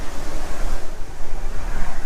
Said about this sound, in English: she's getting a little bit blustery out here and windy and a little bit chilly